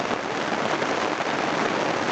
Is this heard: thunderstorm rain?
yes